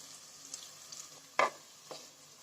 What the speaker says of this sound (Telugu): ఒక హాఫ్ మినిట్ ఫ్రై చేసుకుందాం.